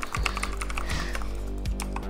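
Fast, steady clicking and tapping of a computer keyboard or mouse during Roblox Bedwars play, a quick run of close, crisp taps with a few heavier thumps underneath.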